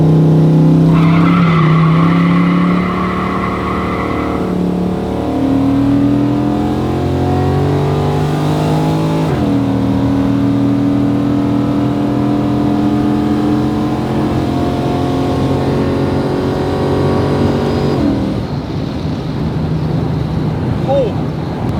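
Buick Regal drag car launching on the street, its engine roaring and climbing through rising revs while the tires spin and squeal off the line, loud and close, then the pitch shifts as it pulls away.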